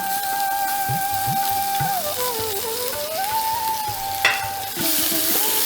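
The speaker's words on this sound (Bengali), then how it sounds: "এই পেঁয়াজ রসুন আদার যে ইয়েটা আছে পেস্টটা আমি দিয়ে দিলাম" Onion, garlic, ginger and green chilli paste frying in ghee with a little white oil, a continuous close sizzle with soft stirring scrapes and a steady tone running underneath.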